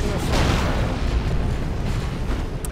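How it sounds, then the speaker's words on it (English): A Manticore rocket strike in the Dawn of War II: Retribution video game lands as loud, dense rumbling explosions, with booms rolling continuously through the whole moment amid multiplayer battle noise. "my Manticore is definitely on cooldown. I had just fired it."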